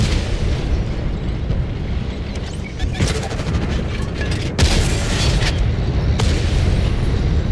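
In World of Tanks, a tank's ammo rack detonates in a heavy explosive boom, followed by crackling bursts and rumbling battle noise, loud and close, with some talk around it.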